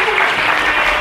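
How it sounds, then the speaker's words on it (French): Audience at a year-end community party clapping steadily for a woman, a dense continuous burst of applause with no talk over it. "Applaudissez pour la dame."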